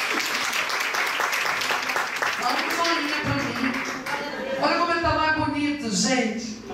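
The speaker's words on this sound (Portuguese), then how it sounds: "Dê um aplauso ali aos nossos queridos" Congregation applause during a church worship service, clapping that gives way to overlapping voices and cheering as people talk and call out over it.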